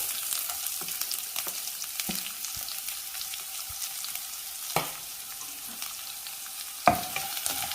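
Chopped onion frying in a pan with curry leaves and dried red chillies: a light steady sizzle with occasional spoon scrapes and a couple of sharper clinks, close and moderate, with no speech.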